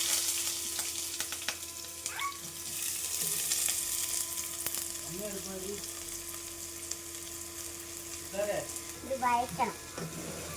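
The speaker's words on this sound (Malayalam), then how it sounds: "സിത്തു, ഉള്ളി വാട്ട്." Onions sautéing in a home-kitchen pan give a soft continuous sizzle with occasional scrapes of stirring, while voices chatter intermittently over the cooking.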